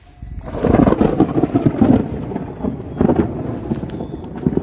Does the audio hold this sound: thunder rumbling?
yes